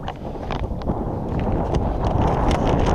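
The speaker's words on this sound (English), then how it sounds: "God, this wind is very gusty though, very strong." Strong, gusty wind buffeting the microphone at a carp fishing lake in Poland, a loud continuous rumble rising and falling in surges.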